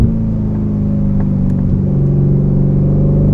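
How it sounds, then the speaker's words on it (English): The Aston Martin Formula 1 safety car's engine drones loud and close from inside the cabin on a wet track, a steady rich rumble holding near-constant revs with no talk. "I'm driving the F1 safety car"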